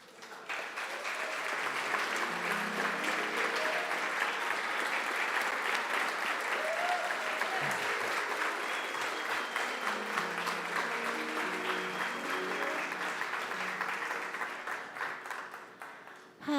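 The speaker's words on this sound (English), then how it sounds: "I don't really like applause." Sustained audience applause fills an auditorium, a dense, steady wash of clapping from a large crowd that holds evenly for about sixteen seconds before tapering slightly at the end.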